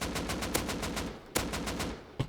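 AK rifle fire in the survival game Rust: a loud, fast, evenly spaced burst of shots, a short pause, then another rapid burst and a final single shot.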